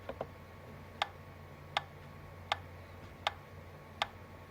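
An online metronome ticks faintly at a steady tempo, six evenly spaced sharp clicks over quiet background hiss, with no talking.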